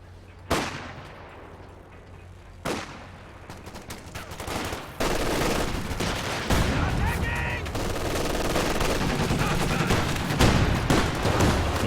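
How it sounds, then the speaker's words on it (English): Heavy anti-tank gun shots boom twice in a strategy video game, spaced a couple of seconds apart, then dense rumbling battle noise and rapid fire build up and continue. "AT gunshot connects."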